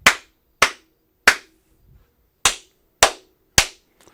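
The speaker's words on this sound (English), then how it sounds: "I'm going to clap on this one." Six sharp, loud hand claps ring out one at a time, evenly spaced with short pauses between them and a brief gap in the middle, nearly silent in between, as claps are used to sync cameras.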